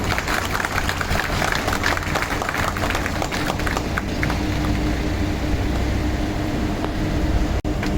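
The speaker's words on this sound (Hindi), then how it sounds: "आप लोगों की तालियां बजती रहनी चाहिए।" An audience at a factory's National Safety Day event claps in sustained, dense applause. The applause is loud and continuous, then tails off near the end.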